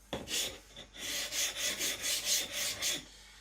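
Naniwa whetstone sides being flattened by rubbing, about nine rhythmic abrasive strokes in a steady back-and-forth, close and fairly quiet.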